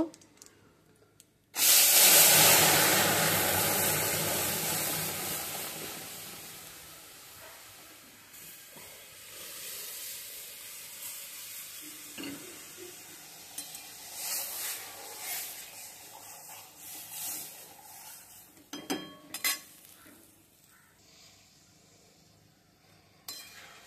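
Lentils tipped into hot oil with fried dried chilies burst into a loud, hissing sizzle that slowly settles into a steady crackle, with occasional stirring clatter.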